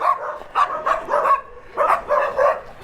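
Several dogs bark in quick bursts, fairly close, with short pauses between volleys of sharp, yappy barks, in a neighborhood above Los Altos de Veracruz, Sutiava, León, Nicaragua.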